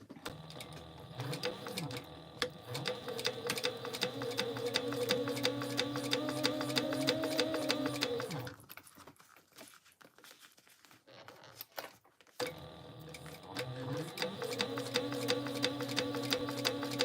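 A sewing machine top stitches a backpack in two long runs of rapid, steady mechanical clatter, loud and close. A pause of a few seconds falls between the runs, holding only quiet handling noise.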